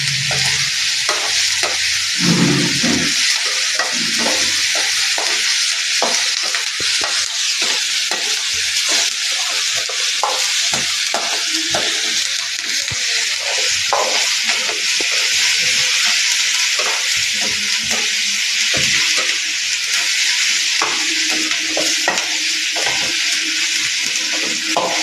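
Home-grown red chillies and a little tamarind sautéing in a pan, a steady loud sizzle with frequent stirring scrapes and clinks running throughout, no talk.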